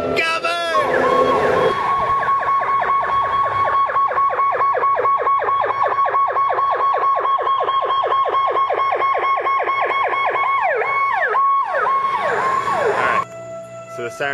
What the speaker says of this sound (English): I think we're being bombed. It's the air raid sirens.